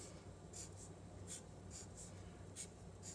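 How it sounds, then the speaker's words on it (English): A pencil writing a name on paper during an upside-down drawing warm-up, faint close scratchy strokes in short repeated bursts over low background hum. "let's write your name on here"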